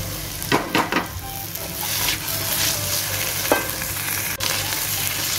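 Vegetables for Indian-style pasta, joined by corn and capsicum, sizzle in a pan as they are stirred, with a few sharp clinks and scrapes of the utensil at the start over a steady frying hiss, close by and alone.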